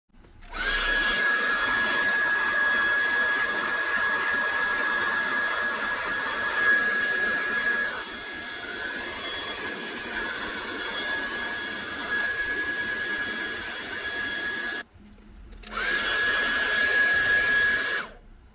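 A heat gun blows hot air onto the screen of a Samsung Galaxy S23 Ultra during a repair. It makes a steady, close roaring hiss that cuts out briefly near the end, then starts again.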